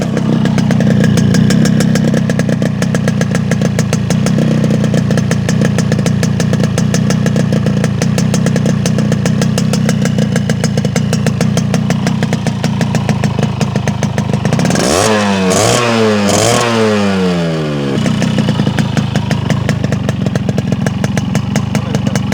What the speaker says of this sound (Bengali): এবার আপনাদেরকে গাড়ির ইঞ্জিনের সাউন্ডটা একটু শোনাই দিয়ে।